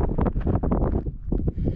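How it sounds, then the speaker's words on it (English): Wind gusting across a mountain trail on North Table Mountain, heard as heavy, buffeting rumble against the microphone in uneven bursts, close and loud throughout. "It's a little breezy."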